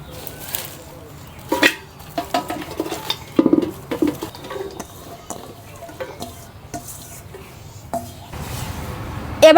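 Vegetables dropped one after another into a cooking pot for traditional village-style vegetable khichuri, giving scattered close clatters, soft patters and stirring knocks against the pot, irregular and moderately loud, with no talking.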